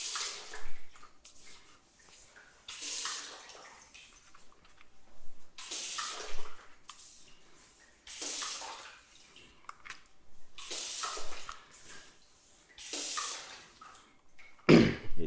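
Bursts of rinsing water from a hose on its sheeting setting flow over car paint, in repeated passes of a few seconds each with brief quiet gaps between them, close and steady.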